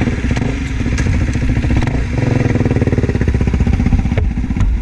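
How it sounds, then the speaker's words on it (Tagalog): A motorcycle engine revs loudly through its muffler at close range, with steady rapid exhaust pulses rising and falling in pitch as the throttle is worked. "Ganda na muffler niya, bagay talaga."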